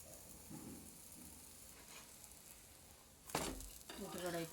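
An egg omelette frying in a pan on a low flame, a faint continuous sizzle that runs throughout, and a voice speaks briefly over it near the end.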